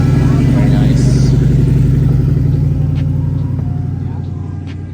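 Deep, steady rumble of an air-cooled Porsche 993 idling close by at a cars and coffee meet, a continuous low throb with faint background chatter that eases slightly toward the end.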